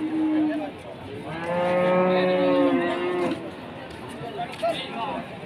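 Simmental cattle at a livestock market give a long, loud drawn-out moo in the middle, with a busy market crowd and voices around it.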